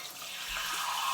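Water poured from a tap into an Instant Pot while cooking street tacos, a brief, steady rushing stream with no talk.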